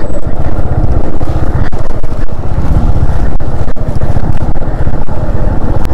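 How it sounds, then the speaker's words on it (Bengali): Motorcycle engine braking in first gear while descending an off-road mountain trail in Lower Mustang, Nepal, its steady low rumble loud and close throughout, with wind buffeting the microphone. "ইঞ্জিন ব্রেকিং এ দিয়ে নাবজি"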